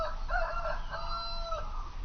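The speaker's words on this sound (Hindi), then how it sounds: "तभी मुर्गे के बाग देने की आवाज सुनाई देती है" A rooster crows one drawn-out cock-a-doodle-doo at morning, its bright rising and falling notes fairly close and clear over a low background rumble, with no talking.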